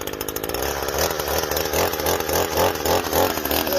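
A Stihl chainsaw engine running: a loud, close two-stroke buzz that starts at a rough idle and then revs in rhythmic surges several times, with no talk over it.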